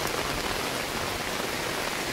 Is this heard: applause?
no